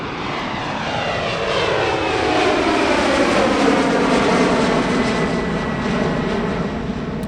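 An ARJ21 jet airliner flying at the Sichuan Airshow: a loud, continuous jet engine roar with a sweeping pitch shift as it passes, steady and dominant throughout with no talk.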